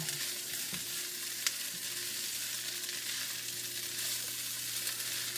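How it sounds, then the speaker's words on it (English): Ingredients for Cajun courtbouillon sauté in a pan, giving a steady, moderately loud sizzle and hiss that runs unbroken throughout, with a few faint clicks of utensils and no talking. "So we saute this a few minutes."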